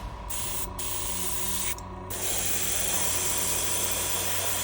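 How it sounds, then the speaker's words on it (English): Matte varnish sprays in a steady aerosol hiss over a miniature base, sealing snow powder in place; two brief pauses break the early spray before a longer, louder continuous burst runs to the end. "grab your matte varnish again and then seal it in"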